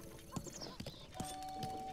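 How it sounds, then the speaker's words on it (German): Hooves of a wild horse clip-clopping in The Legend of Zelda: Breath of the Wild, a few separate thuds at a walking pace over a low game ambience. "Du scheinst Wildpferd gefangen zu haben"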